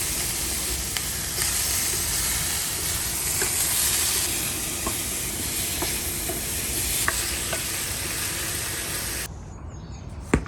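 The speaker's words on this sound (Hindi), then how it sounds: "फ्राइंग पैन गर्म हो गया है तो अभी चिकन विंग्स डाल के इसको सील कर लेते हैं।" Chicken wings sear in a hot frying pan with a loud, steady sizzle and hiss that runs unbroken for about nine seconds, then drops away abruptly.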